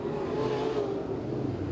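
Dirt track race car accelerating hard out of turn four on the oval at Pennsboro Speedway during a 2001 DTWC heat race, a steady loud engine roar with rising harmonics, continuous for the whole stretch.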